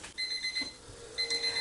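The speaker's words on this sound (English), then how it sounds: "my timer is going off" A kitchen timer goes off with two bursts of rapid high electronic beeping separated by a short pause, close and clear, with no talk over it.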